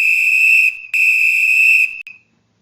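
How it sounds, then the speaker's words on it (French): A shrill, steady whistle blows loud and close in two long blasts, separated by a brief gap and followed by a short final toot. "Le sifflet produit un son de grande fréquence."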